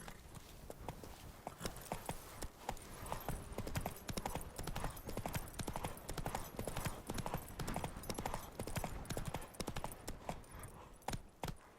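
A horse gallops in the video game The Witcher 3: Wild Hunt. Rapid, steady hoofbeats drum continuously throughout at a close, even level.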